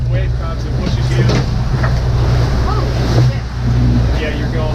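Waves slosh and slap against a boat crossing the rough, busy English Channel, a continuous churning wash over a low engine hum, with brief surges as swells hit.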